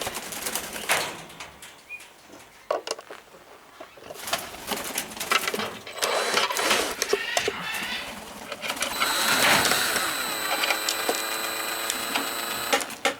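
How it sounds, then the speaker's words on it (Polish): A cordless screwdriver drill whines steadily while unscrewing screws near the cage of newly bought Lord Derby's parakeets, with bird chirps and flapping scattered around it. "Dobrze, że wziąłem wkrętarkę."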